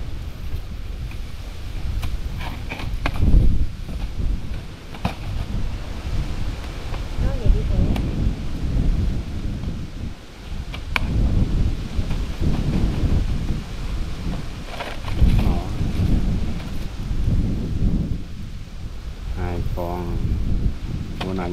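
Heavy outdoor wind buffets the microphone in loud, continuous rumbling gusts that swell and ease, with people talking intermittently underneath.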